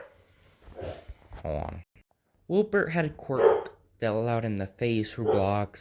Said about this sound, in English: Sorry for the background noise, my dog's freaking out.